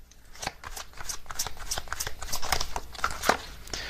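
A deck of zodiac cards being shuffled by hand, a steady run of quick riffling flicks and soft card slaps up close, with no talking.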